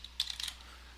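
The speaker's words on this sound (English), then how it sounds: "Now we're going to type in Organization_Information." A short burst of quick, light keystrokes on a computer keyboard, a handful of crisp clicks in close succession, faint and close, with no talking.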